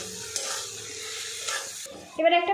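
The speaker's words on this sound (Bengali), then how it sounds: "এবারে এগুলো আমি একসঙ্গে কষিয়ে নেব" Fried potato and ivy gourd pieces are stirred with spices in a pan, giving a soft sizzle and scraping spoon strokes, followed by a brighter clatter near the end.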